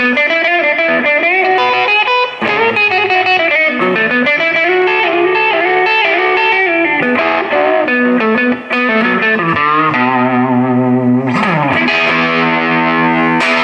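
Gibson ES-335 semi-hollow electric guitar in Vintage Burst, played on the middle pickup position with the volume up, a continuous flow of overdriven chords and melodic lines, loud and close with no talking.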